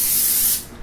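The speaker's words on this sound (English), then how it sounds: "just hit it with a really quick spritz of oil" A single quick spritz of olive oil from a spray bottle onto breaded tofu, a loud close hiss lasting about half a second before cutting off.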